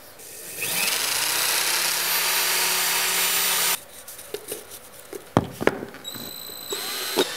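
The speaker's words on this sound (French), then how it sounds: "perce des trous adéquats avec la perceuse" A power drill whines steadily for several seconds drilling holes for fixing clips while laying laminate flooring, then cuts off, followed by scattered clicks, knocks and handling noises.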